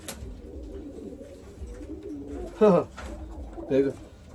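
Pigeons in a breeding-season loft give two distinct throaty coos over a quiet, low murmur of birds nearby, the first louder than the second.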